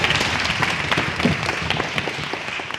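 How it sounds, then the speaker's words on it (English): A talk audience claps for a speaker, a continuous, fairly loud and close patter of many hands that keeps going steadily for the whole stretch. "can we please give another round of applause to Making?"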